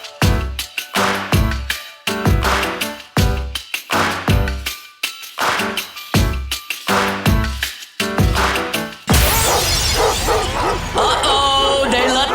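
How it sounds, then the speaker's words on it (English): A dog-barking sound effect in a sports radio segment on 104.5 ESPN Baton Rouge: a rapid run of loud, punchy barks repeats for several seconds before a dense burst of music takes over. "Uh-oh, they let the big dog out."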